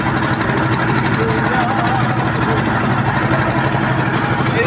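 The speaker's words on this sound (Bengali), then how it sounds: "এগুলো হলো মাছ ধরা জাহাজ।" The engine of a fishing ship runs with a loud, steady, throbbing drone close by, unbroken throughout, with faint voices mixed into the noise.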